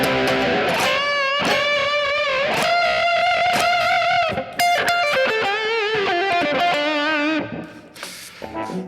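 Distorted electric guitar playing a loud, continuous riff with layered, gritty tones and bending notes, no voices.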